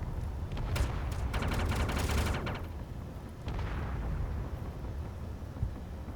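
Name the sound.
turrets firing at ship in Space Engineers video game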